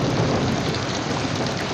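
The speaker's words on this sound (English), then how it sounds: "Been raining for hours." Heavy rain pours down with rolling thunder as a radio drama sound effect for a flood scene, a dense, steady roar throughout with no voices.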